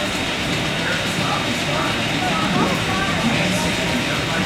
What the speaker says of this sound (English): An institution at Silver Dollar City is the Frisco Silver Dollar Steam Line train ride.